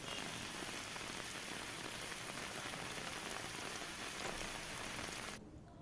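Heavy rain from Cyclone Gulab falling on the city of Muzaffarpur, a dense, steady, loud hiss that stops abruptly just before the end.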